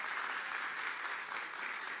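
Audience applause breaks out at Lula's visit to the National Institute of Traumatology and Orthopedics in Rio de Janeiro: dense, steady clapping from many hands, loud and continuous throughout with no pause.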